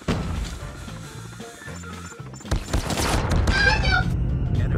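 Short rapid bursts from a CBR4/P90 submachine gun in Call of Duty Mobile, sharp close shots in quick rhythmic volleys followed by louder crashing impacts and a dense mix of game noise.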